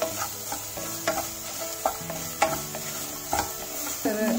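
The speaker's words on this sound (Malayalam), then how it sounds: "ഒരു 5-10 മിനിറ്റായി ഞങ്ങളിപ്പോൾ ഇതെല്ലാം കൂടെ ഫ്രൈ ചെയ്തിരുന്നു" Vegetables with a tablespoon of pepper frying in a pan for vegetable fried rice, with a steady sizzle and repeated scraping, clattering stirring strokes at an irregular pace, close and moderately quiet.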